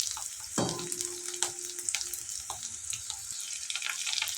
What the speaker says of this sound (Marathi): मिरची आणि लसूण मस्त भाजून घ्यायचं.